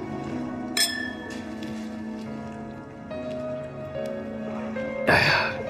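Glasses clink together in a toast, a sharp bright chime near the start and another louder clink near the end, over a quiet room with soft background music.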